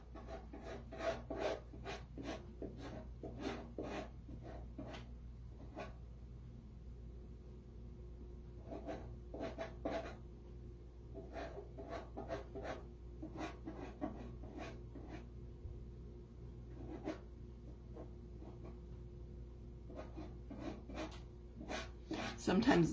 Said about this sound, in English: Let's get it smoothed down.